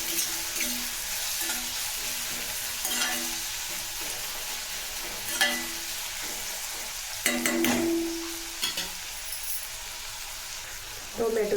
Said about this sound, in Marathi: बारीक केलेले टोमॅटो टाकायचे आहेत। याला पण 2 ते 3 मिनिट परतून घ्यायचे आहे तेलामध्ये